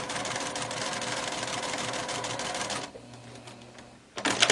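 A sewing machine runs steadily while stitching a seam joining Lone Star quilt diamonds, a fast even whirring that stops near the end before a brief louder noise.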